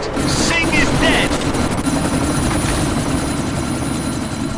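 A helicopter in the video game Deus Ex drones loudly and continuously nearby, its engine and rotor roar steady throughout, with a short burst of higher chatter near the start.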